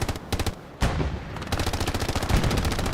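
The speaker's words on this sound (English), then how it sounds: "Bloody Nine goes down to the MG to his south, or should I say west" Machine gun fire in the Hell Let Loose game on the Utah Beach map: loud rapid bursts of automatic shots in fast rhythmic strings, one brief gap then sustained firing, with no talk.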